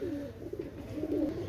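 Pakistani pigeons coo in low, rolling murmurs that swell and fade across a short stretch, close and steady with no other sounds over them.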